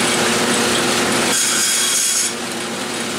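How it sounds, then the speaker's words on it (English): A bandsaw cuts wooden rails for a round cribbage board to length. The blade gives a loud, continuous rasping hum that shifts in tone as it passes through the wood, then settles back to the idle whir. "I'm going to cut these to the same length. Just do that real quick on the bandsaw."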